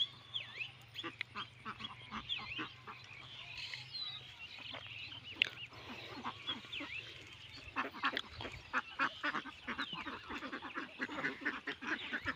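Farm ducks in Chatmohar, Pabna, quacking in a dense, continuous chorus of overlapping calls, fairly near, with a low steady hum running underneath.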